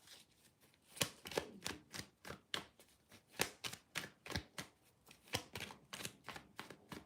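Oracle cards being shuffled by hand, a steady run of crisp riffling snaps and slaps, about two dozen quick bursts in irregular rhythm, close and clear with no talking.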